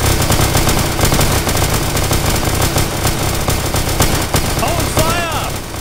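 Firing-squad volley in Arma 3, a dense burst of rapid gunfire rattling on loudly and continuously for several seconds, with a few chirping electronic tones near the end.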